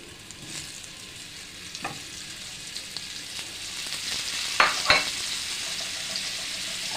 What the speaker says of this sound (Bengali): এই যে পটলগুলা লবণ হলুদ মেখে রেখেছি এখন চুলায় দিয়ে দিব